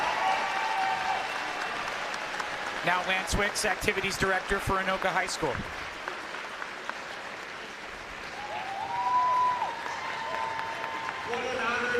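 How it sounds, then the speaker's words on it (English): Crowd applause in a high school gym at a Coon Rapids versus Anoka wrestling event, sustained clapping and cheering with sharp bangs, under a loudspeaker announcer's voice. "one more big round of applause for this guy"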